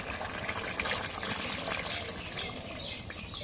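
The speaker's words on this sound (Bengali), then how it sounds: "জলে পানি দিয়ে দিই" Continuous splashing and trickling of water being poured into a pot of layer chicken curry with potatoes, steady and close throughout.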